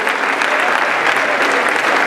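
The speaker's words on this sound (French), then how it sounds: "On applaudit pendant qu'elle salue les chefs traditionnels" At an official ceremony in Côte d'Ivoire, a crowd applauds as Canada's governor general greets traditional chiefs and officials, producing a loud, dense, unbroken wash of clapping throughout.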